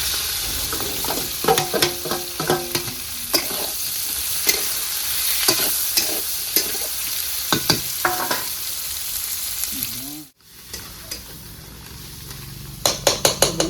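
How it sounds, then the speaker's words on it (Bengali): Onions sizzle steadily in a pan while a spatula scrapes and clinks against the metal in repeated strokes; the sizzle briefly cuts out, then continues. "বন্ধুরা পেঁয়াজটা আমার প্রায় ভাজা হয়ে গিয়েছে।"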